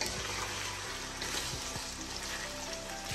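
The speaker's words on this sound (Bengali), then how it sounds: "এভাবে হাই ফ্লেমে ভাজলে হয় কি, চিকেনের ভেতরে যে জুসটা এটা ইনটেক হয়ে যায়" Chicken fries over high flame in a kadai with a steady, fairly faint hiss and sputter. Occasional soft knocks of stirring can be heard, and no voices are present.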